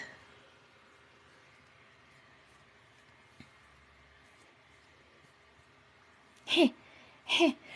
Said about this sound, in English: You guys hear my fiance sneezing in there?